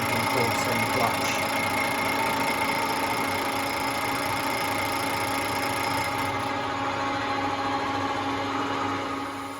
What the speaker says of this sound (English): This is just taking a cut on the friction surface